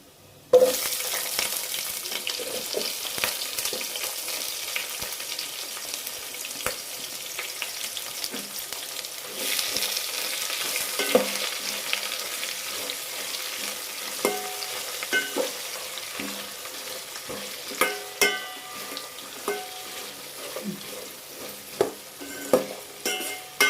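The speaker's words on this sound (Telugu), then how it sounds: "ఇప్పుడు ఉల్లిపాయ వేసుకుందాము" Chopped onions fry and get stirred in a pan while tomato rice is being made, a continuous close sizzle broken by frequent scraping clicks of a spoon against the pan, with no talking.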